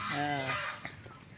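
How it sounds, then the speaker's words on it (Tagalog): A goose honks on a farm, one loud nasal call up close followed by fainter farmyard sounds. "Gansa po yan"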